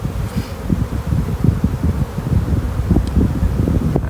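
Honey bees hum steadily around an open hive during a spring inspection, a dense low buzz near the microphone with light wind and rustle, no talking.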